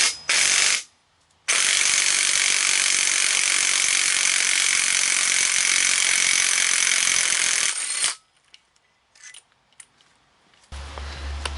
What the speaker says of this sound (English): I got the puller tool. I'll just run it down.